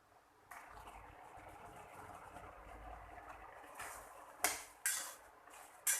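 Carrot halwa cooks in milk in a pan, a soft simmer is heard close by, then a lid goes on with several clear metallic clanks and rattles in the last few seconds.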